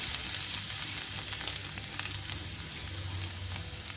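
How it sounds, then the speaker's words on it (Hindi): Garlic and chopped green chilies sizzle and crackle steadily in hot oil in a pan, a close, continuous frying hiss with small pops and no talking. "1 टीस्पून चॉप की हुई हरी मिर्चें हैं। 2 मिनट फ्राई कर लेंगे।"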